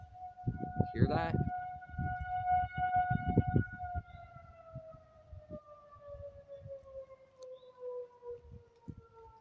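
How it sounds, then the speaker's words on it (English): Civil defense sirens wind through a tornado warning, a loud sustained wail that slowly falls in pitch as it winds down, with people talking and background noise beneath it. "Sirens facing right toward us,"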